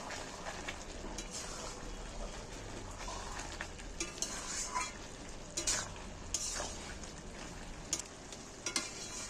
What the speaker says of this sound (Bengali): এইটার আমি এখন ঘাঁটছি, থালাটা চাপা দিচ্ছি